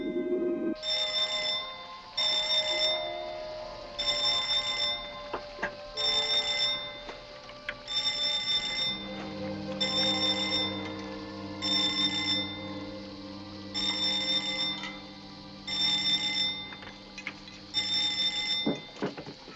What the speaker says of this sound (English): That's when I heard the alarm bell, telling me to get inside and answer the phone.